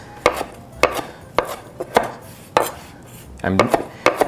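Knife chopping herbs on a cutting board for faux osso buco: sharp, separate thuds spaced about half a second apart, ending in a quicker cluster of rocking cuts, close and clear with no talk.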